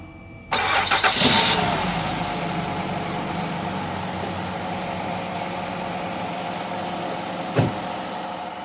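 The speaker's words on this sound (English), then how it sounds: "that's the engine running right there. It's running very smoothly with no problem." A Mazda MPV 3.0 minivan engine cranks and catches with a loud burst, then settles into a steady, even idle, with a single brief clunk near the end.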